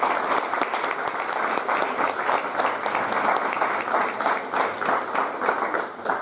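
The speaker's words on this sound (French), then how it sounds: "Je pense qu'on peut les applaudir parce qu'on n'aura pas l'occasion de ça." A room full of people at a democratic evening event applauds the project leaders with loud, close, continuous clapping that keeps a lively, even intensity from start to finish.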